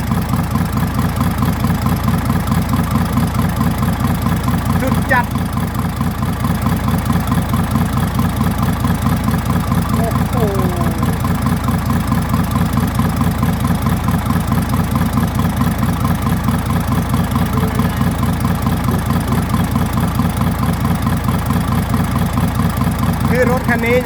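A car engine idles steadily and loudly nearby with its exhaust pipe blocked, a constant low rumbling drone with no change in pace.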